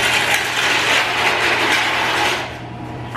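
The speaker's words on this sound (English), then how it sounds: "using a heavy snow shovel worked really good at scraping the" A heavy snow shovel scrapes across a dairy barn floor in front of a cow feeder, making a loud, continuous rasping grind close by that eases off near the end before a brief knock.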